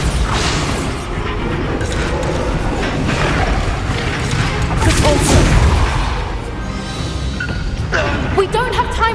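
A Bombarda spell explosion in Hogwarts Legacy, a loud booming blast with rumbling debris amid game combat noise, with spoken voices around it.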